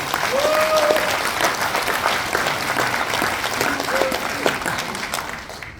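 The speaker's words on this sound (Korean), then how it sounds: "여러분, 이철규 의원님한테 힘을 실어주는 박수 한번 부탁드리겠습니다." A crowd claps steadily throughout, dense applause with scattered voices calling out underneath, at a regional vision declaration ceremony in Taebaek, South Korea.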